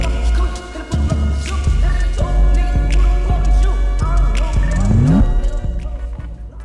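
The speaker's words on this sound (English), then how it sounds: "Now on some audios you might want to add reverb if you're doing a slowed audio." Slowed-down music with added reverb, a smeared studio-style wash of sustained low bass and gliding tones that plays continuously and fairly loud, with no voices over it.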